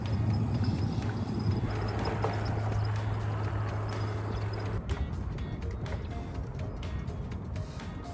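A ridden horse's hooves clip-clop in a steady rhythm against constant outdoor rumble and handling noise, with the clatter growing sharper and more distinct partway through.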